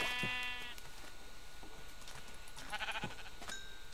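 Several Minecraft sheep bleats, high and wavering, come in short bursts near the start and again later, alone against a faint background.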